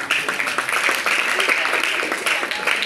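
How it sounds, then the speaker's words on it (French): An audience applauding on the quiz game show Question pour un champion: dense, continuous clapping from many hands, loud and close, holding steady for about three seconds. "D'office, on acclame pour elle."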